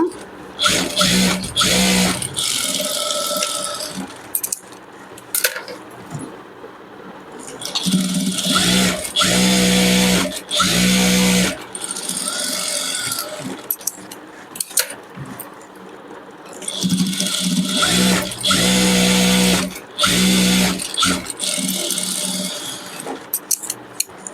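Electric sewing machine stitching a princess-cut blouse in repeated loud, fast whirring runs of several seconds each, broken by brief pauses, close up with no talk.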